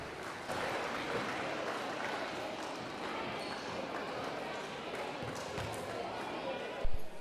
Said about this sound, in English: Let's hear that crowd.